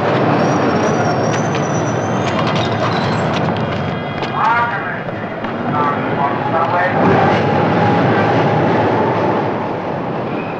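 A loud, steady rumble of a Chicago elevated train passing close by in 1979, with a squealing high tone and clatter, sustained throughout.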